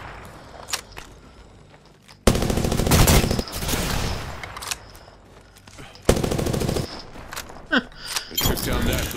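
Machine gun fire in the video game Apex Legends, loud rapid bursts starting abruptly, broken by pauses and another hard burst, with scattered shots and a voice speaking between them.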